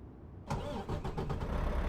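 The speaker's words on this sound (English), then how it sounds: "So you should be able to hear the engine a little better now." Truck engine firing up in American Truck Simulator, a sudden cranking catch after quiet, then a rough rumbling idle with a few surging pulses, up close.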